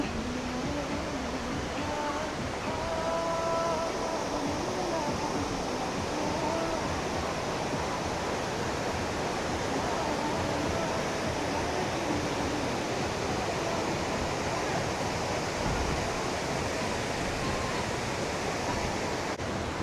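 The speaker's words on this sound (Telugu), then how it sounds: "దీని వెనకమాలే ఇంత పెద్ద జలపాతం" Ravana Falls in Sri Lanka, a large waterfall, sends out a constant broad roar of falling water, steady and enveloping, with faint voices briefly in the early part.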